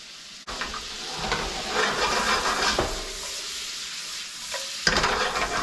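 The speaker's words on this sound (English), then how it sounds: "See if we can't get some heat on these shrimp, which look to be almost done." Shrimp sizzling in a hot pan as they finish cooking, a steady close hiss with scraping stirs and a few sharp clacks of a utensil against the pan, no talk.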